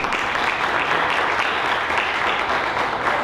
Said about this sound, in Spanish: También pido un fuerte aplauso.